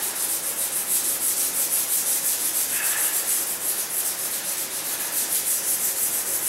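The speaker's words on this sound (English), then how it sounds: "how to remove black mastic with a floor scraper" A floor scraper works black tar mastic off a floor in steady, rhythmic rasping strokes, a close and continuous gritty scraping with no voices.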